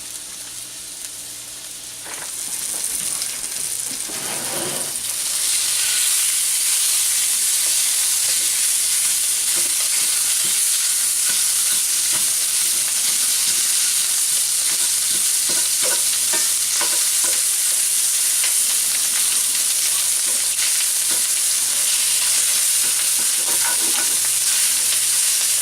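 Ground meat sizzling steadily in a cast iron pan while a wooden spoon scrapes and stirs it, the frying building over the first few seconds, then holding as a continuous close crackle with intermittent stirring clatter.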